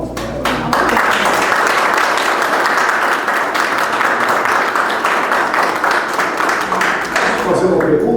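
An audience at a Portuguese-language talk on taxidermy in environmental education breaks into sustained applause, dense steady clapping filling the room for several seconds after a brief moment of quiet.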